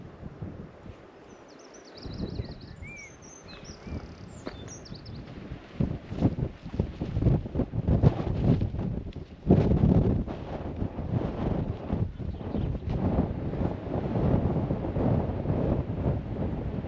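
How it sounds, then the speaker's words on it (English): Strong wind buffets the microphone on an exposed coastal footpath between St Ives and Pendeen in Cornwall, a steady low roar with gusty surges that builds after the first couple of seconds and persists to the end. "It's a bit windy."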